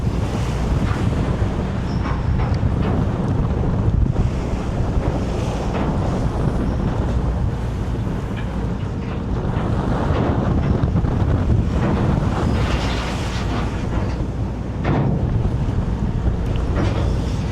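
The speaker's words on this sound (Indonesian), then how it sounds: "Pokoknya mulai berangkat sampai saat ini lautnya nggak ada tenangnya nih. Pokoknya dihajar terus." Rough Java Sea in bad weather, with loud, continuous wind buffeting and waves crashing against a boat, surging in heavy gusts throughout; nobody speaks.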